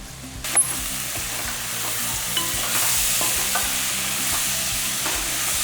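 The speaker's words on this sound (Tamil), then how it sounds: "கத்திரிக்காய் முருங்கைக்காய் மாங்காய் எல்லாமே போட்டு இந்த தட்டைப்பயிரோடு நல்லா வதக்கிக்கலாம்" Brinjal, drumstick, raw mango and cowpeas sautéing in a pan for dry fish curry, a loud continuous sizzle with a few stirring knocks near the start, close and with no talking.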